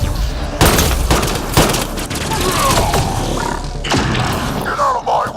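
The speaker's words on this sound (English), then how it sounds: "Shooting as fast as I can!" Rapid gunfire in the Mass Effect Andromeda video game, with sharp shots cracking out loud and close amid a continuous din of combat noise and effects, with grunting voices mixed in.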